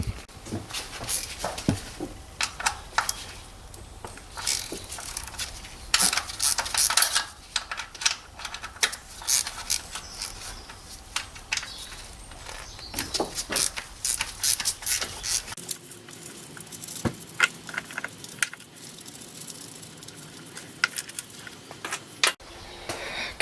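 A ratchet working on the 10mm bolts of a VANOS solenoid on a BMW E87/E90 engine, making rapid close clicking bursts and taps in a quiet garage, with pauses between runs and no speech.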